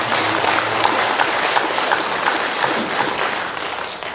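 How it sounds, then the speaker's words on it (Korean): A church congregation claps in thanks for the choir, a full, steady round of applause with a few sharper individual claps standing out as it continues at even strength. "우리 또 감사하는 박수 한번"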